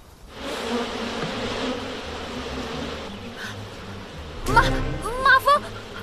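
Wasps buzz in a steady, close drone after a soft start, followed near the end by a few short, sharp sounds that stand out above the hum.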